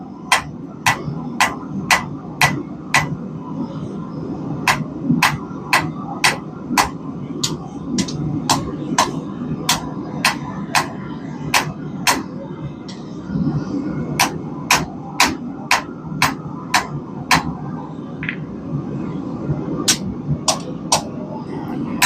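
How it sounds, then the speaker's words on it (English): A hammer strikes hot steel while forging a throwing knife, steady ringing blows in fast rhythmic runs broken by a short pause, over a low background hum. "So I try to hammer the product as close to finished as I can get it."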